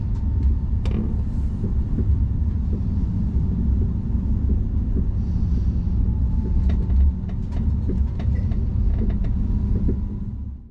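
Interior ride of an SBB Pendolino tilting train, a steady low rumble with faint rattles and clicks of the carriage, continuous and moderately loud without talk.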